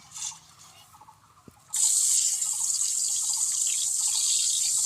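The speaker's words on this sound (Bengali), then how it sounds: "তেল গরম হয়ে গেছে এবার আমি মাছগুলো দিয়ে দেব" Prawns dropped into hot mustard oil set off a sudden loud, continuous sizzle after a quiet start with faint clinks, the bright crackling frying holding steady and close without talk.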